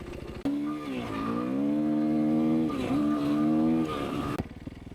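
A sportsbike ridden off-road passes close by, its engine a loud, sustained rising and falling whine that swells as it goes by and cuts off sharply near the end.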